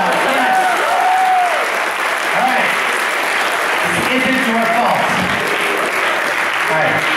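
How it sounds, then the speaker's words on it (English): Audience applause at a comedy talk in a university hall, a loud steady wash of clapping filling the room while someone speaks briefly over it. "Give him a huge round of applause."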